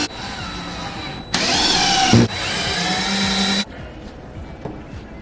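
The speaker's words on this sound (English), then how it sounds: "I'm gonna real quickly get one more screw in on the stud." A power drill drives a screw into a wall stud during a single-wide mobile home makeover, two loud whirring bursts of a couple of seconds each with a brief pause between, then quiet room tone.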